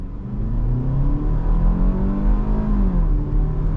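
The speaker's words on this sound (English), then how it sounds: "I'm gonna come to a stop and we're gonna do an on throttle acceleration." A 2022 Hyundai Tucson compact SUV pulling away from a stop under throttle, heard from inside the cabin as a loud, steady engine drone rising in pitch with a low rumble throughout, no speech.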